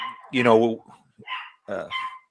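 A dog barks and yelps a few times, with short harmonic cries and gaps between them, close by and mixed with people talking in a home setting.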